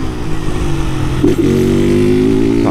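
A Honda Titan 160 motorcycle fitted with a tin exhaust, revving close up with a loud, steady, buzzing engine drone and a brief blip partway through, with no speech.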